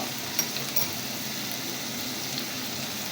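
Sliced green chilies with salt fry in a pan for a jute leaf dish, giving a soft, steady close sizzle with a couple of faint clinks near the start.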